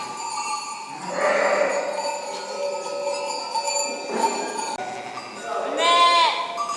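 Sheep bleat loudly and repeatedly nearby, several wavering calls spaced across the clip, over a soft outdoor background with faint voices.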